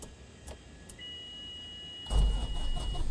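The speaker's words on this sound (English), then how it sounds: "And we have ignition." A Cessna 152 engine cranks and starts in Microsoft Flight Simulator 2020, with a few clicks and a steady whine before the engine catches abruptly and settles into a loud, close running rumble.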